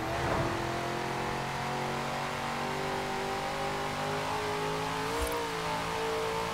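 BMW engine revving hard as the car accelerates in Forza Horizon 4, a loud continuous drone with rising and falling pitch and a brief thump near the end, no voices.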